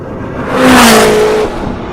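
An SSC Tuatara hypercar accelerates past, its engine note swelling to a loud rising whoosh and then fading, a single close pass-by with no voices.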